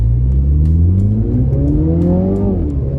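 A 2019 Mini Cooper Clubman John Cooper Works ALL4 accelerates hard from a stoplight in a drag race with an old Ford truck, its engine note climbing steadily through the revs, loud and close, with a brief dip as it shifts.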